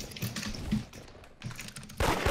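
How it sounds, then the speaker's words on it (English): Rapid, loud clatter of computer keyboard typing in two bursts separated by a short lull, close and alone with no voices. "Loud keyboard!"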